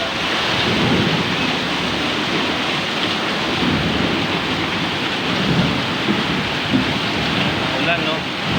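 Heavy rain pours down in a thunderstorm with gusting wind, a loud, dense, unbroken roar of rainfall with low rumbling thunder underneath throughout.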